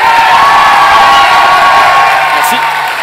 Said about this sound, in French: Et un tonnerre d'applaudissements pour Monsieur John Rhys-Davies.